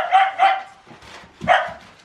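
Several cocker spaniel dogs bark in a family group, with two sharp barks close together, a pause, then a third bark followed by quieter yips and shuffling.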